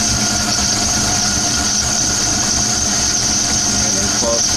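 Logan 10 inch metal lathe turning a shaft, a loud steady motor whine with a high squealing cutting tone and a continuous mechanical drone, close up.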